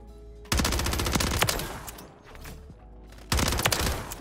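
Bursts of rapid SMG fire in a video game, loud and close: one long stuttering volley, a brief lull, then another sharp burst near the end.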